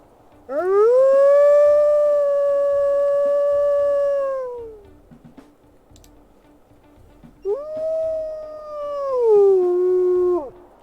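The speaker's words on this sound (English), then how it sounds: "we'll listen to her howls here" A wolf in the video game WolfQuest howls in two long, smooth, rising-then-falling calls separated by a short pause, loud and close with no talking.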